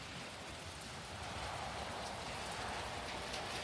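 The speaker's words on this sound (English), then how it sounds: "It's raining." Steady rain pours down, a dense continuous hiss of drops on surfaces with no voices, holding level throughout.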